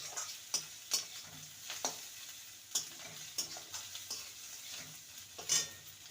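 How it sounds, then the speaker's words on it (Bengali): Ginger-garlic paste and chopped green chili sautéing in a pan while a spatula stirs, giving a soft, close sizzle broken by repeated sharp scraping strokes and no voices. "আদা রসুন বাটা আর কাঁচা লঙ্কা কুচি ভালো করে কষিয়ে নেবো"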